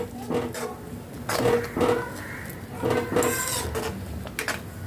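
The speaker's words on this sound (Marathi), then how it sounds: "मीठ घालायचं आहे चवीनुसार हे व्यवस्थित मिक्स करून घ्यायचं आहे" Spicy sevai vermicelli mixed with salt in a metal pot, producing a series of clinking, scraping spoon-against-pan strokes in irregular bursts, close and moderately loud with no talking.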